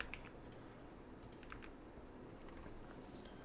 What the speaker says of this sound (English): My keyboard sounds heavenly.